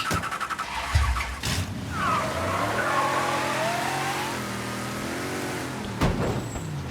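Cars in the video game Mafia III, set in a bayou, rev and skid with long wavering tire squeals over a steady engine roar, ending in a sharp thump.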